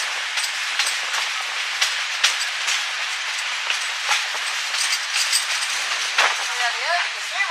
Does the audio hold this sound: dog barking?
no